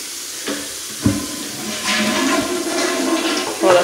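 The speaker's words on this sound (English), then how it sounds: "Well, the flush is good." A house bathroom toilet flushes close by, with a couple of knocks from the handle followed by a steady, loud rush and hiss of water draining and refilling.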